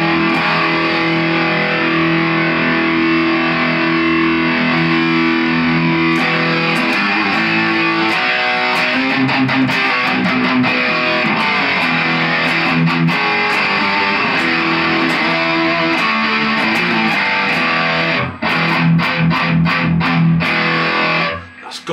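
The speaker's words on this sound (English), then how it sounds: "we're going to kick in our triple rec distortion pedal" A heavily distorted electric guitar with active EMG pickups, through a Triple Rec distortion pedal, plays sustained, gritty chords continuously and loudly, with choppy palm-muted strums toward the end.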